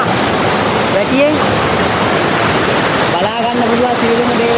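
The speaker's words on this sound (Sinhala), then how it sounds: "කොච්චර වතුර කොච්චර වැඩි වුණත් මේකට උතුරලා යනවා" Heavy water rushing over a weir in a Sri Lankan village stream, a loud constant roar that fills the whole stretch, with faint tonal sounds drifting through it.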